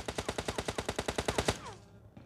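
Rapid automatic gunfire from a weapon in the PUBG video game, about fifteen evenly spaced shots in a quick burst that stops abruptly and leaves a fading echo.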